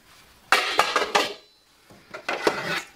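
Metal pans and pots clatter and clank as they are pulled out and handled during a kitchen declutter, several close, bright knocks in two bursts with a short pause between.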